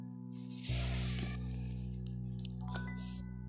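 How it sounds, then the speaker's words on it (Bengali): Thin wheat flour roti fries in a hot pan, a soft steady sizzle that swells after a quiet start and holds at low level, with a faint hum underneath. "একই নিয়মে আমি সবগুলোই ভেজে নিচ্ছি।"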